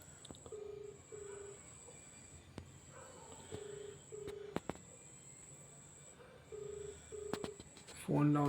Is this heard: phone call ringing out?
yes